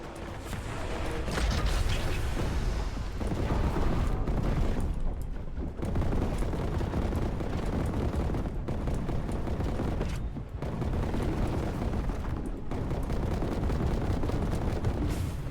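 Fireball barrages in Warhammer 40k Boltgun: dense, loud, continuous blasts and explosive crackling rolling on in waves, with short lulls between the heavy volleys.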